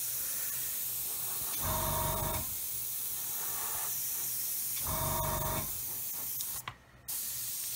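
Aerosol spray paint hissing over a model mask for insignia, two steady bursts of about a second each with quiet pauses between, loud and close.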